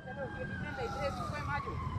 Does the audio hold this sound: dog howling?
no